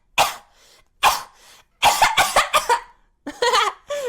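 A person gives a series of short, gentle coughs and throat-clearing sounds at close range: single bursts, then a quick run of several, then a hoarse cough with a slight voiced tail.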